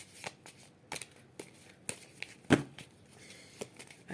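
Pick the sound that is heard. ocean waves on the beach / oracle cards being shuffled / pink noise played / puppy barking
oracle cards being shuffled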